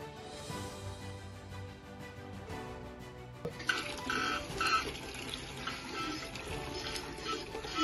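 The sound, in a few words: weak trickle of water from a tap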